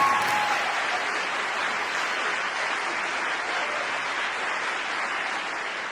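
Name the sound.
audience applause for a contestant on TV show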